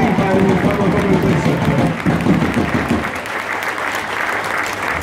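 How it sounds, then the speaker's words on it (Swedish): Loud, dense applause from the audience at a Swedish bowling championship finals weekend, close and sustained, with some crowd murmur and voices mixed in. "så applåder en gång för Excalibur"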